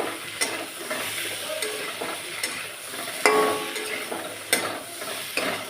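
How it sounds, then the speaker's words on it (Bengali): Pointed gourd sizzles as it sautés in a pan, with a constant soft frying hiss and occasional sharp scrapes and clinks as a spoon stirs it. "ভালো করে সবজিটাকে কষিয়ে নিচ্ছি আগে"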